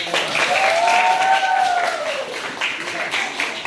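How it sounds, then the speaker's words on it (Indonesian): A class of students claps together in sustained applause, steady and fairly loud throughout, with a bright tone rising briefly over it. "Kalau begitu kita tepuk tangan."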